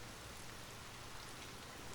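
Steady rain falling on a surface, a continuous soft hiss with no break, heard alone.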